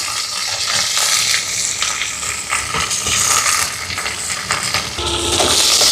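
Chana dal, dried chillies, curry leaves, shallots and garlic sautéing in a hot pan, a steady close sizzle with occasional scraping stirs and no talk.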